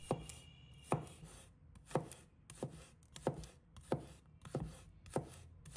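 A knife slicing garlic cloves on a cutting board, about eight crisp, evenly spaced chops close by, each a sharp knock with quiet pauses between.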